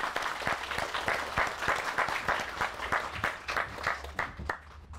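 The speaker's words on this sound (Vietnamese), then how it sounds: "Xin cho tràng pháo tay." Applause at a gathering as an elder statesman is welcomed onto a stage, a crowd clapping in a rhythmic, pulsing pattern with distinct beats, tapering off toward the end.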